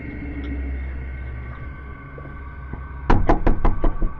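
Five or six hard, sharp knocks strike a door or window in a quick uneven burst near the end, close and loud, after a stretch of low indoor hum and quiet.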